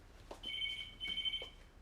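An indoor telephone bell rings in two short bursts with a brief gap between them. The rings are clear but moderately quiet, set against faint background noise, with no speech.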